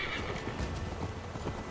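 Horse whinnying and clip-clopping in Assassin's Creed Valhalla, a close neigh at the start followed by rhythmic hoofbeats at a quick gait, moderately loud.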